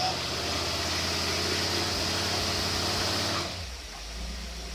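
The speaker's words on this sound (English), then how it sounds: "engage the dyno here, and then we're going to rev it up." Engine fitted with a Carter AFB carburetor roars at sustained high revs on a dynamometer, loud and steady, then drops off sharply near the end to a lower idle with a faint voice.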